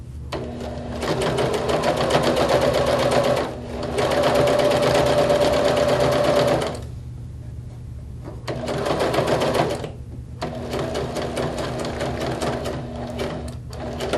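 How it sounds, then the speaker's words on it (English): A sewing machine runs in steady rapid stitching bursts, pausing briefly between runs, close and fairly loud. "for my sewing machine. Okay. And we'll just sew this seam."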